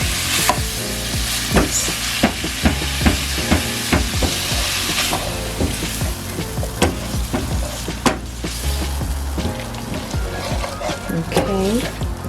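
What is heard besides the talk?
stirring seafood curry in a sizzling pan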